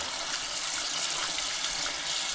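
Water runs steadily from a tap while about ten kilograms of thawed fish such as bream, ide and roach are washed for salting and drying, a close continuous hissing gush with no voices.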